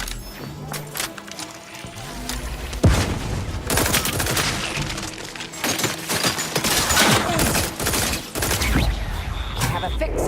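Rapid, dense gunfire from the video game Outer Worlds 2 fills a close, loud combat scene, with sustained volleys and sharp bursts running throughout and game voices talking over the shooting.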